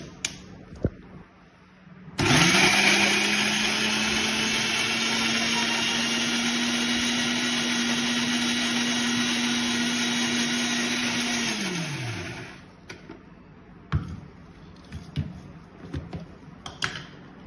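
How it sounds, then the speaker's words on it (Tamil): A kitchen mixer grinder churns jackfruit with grated coconut into a paste, its steady high motor whine starting abruptly, holding for about ten seconds and then winding down, followed by small clatters. "இந்த சக்கையில் மிக்சியில் பேஸ்ட்டாக அரைச்சிடுதேன்"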